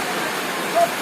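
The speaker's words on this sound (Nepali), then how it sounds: "पानी परेर चाहिँ यहाँ बसी बसे भएको छ है।" Monsoon rain falls in lower Dzongu, Sikkim, a steady, dense hiss that holds evenly throughout at close range, with no break and no voices.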